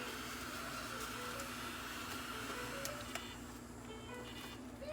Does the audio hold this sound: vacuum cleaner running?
yes